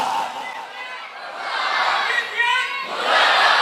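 A large crowd at a Muharram religious gathering shouts a slogan together, a dense roar of many voices rising and falling in waves, with some scattered chatter mixed in.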